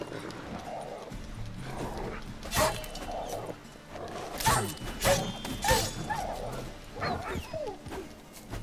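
Horse hooves clip-clop in The Witcher 3, with scattered, uneven steps near and moderately loud, mixed with dog barks and whimpers and occasional game sounds.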